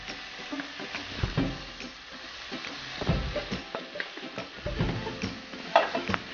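Tomatoes being stirred in a cooking pan for a Nepali nigro and potato curry, with soft scraping and sizzling bursts at an irregular, unhurried rhythm, heard close up and without talk.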